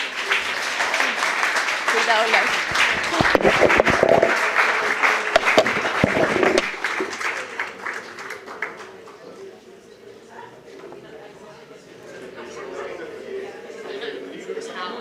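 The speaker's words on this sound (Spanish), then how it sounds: "un aplauso grande, por favor" Loud applause from a crowd at a workshop fills the first half, then fades out as a person speaks briefly and a quieter room ambience remains.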